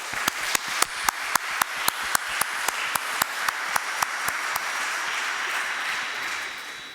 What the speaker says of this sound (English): I think our experts deserve a warm round of applause